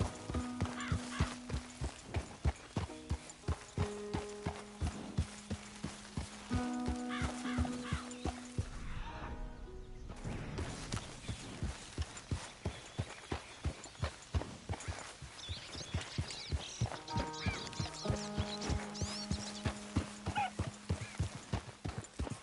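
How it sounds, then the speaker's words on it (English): Horse hooves clip-clop steadily in a PS4 video game, a rhythmic run of close, even hoofbeats that pauses briefly midway and resumes, with occasional neighs and faint game sounds. "must cover some ground on a horse like that."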